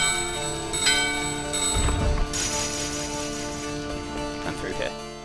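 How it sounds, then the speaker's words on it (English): Bell ringing in Final Fantasy IX, bright chiming strikes layered over steady game music, with a voice talking over it. "Ring the bell."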